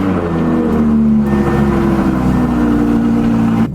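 Turbocharged Z car engine heard up close and loud, a sustained rising rev with a smooth, steady drone that cuts off sharply near the end.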